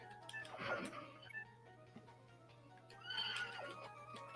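A horse neighs twice in a Mega Man video game on an Evercade Alpha, two short, faint whinnies about three seconds apart over a low, steady hum.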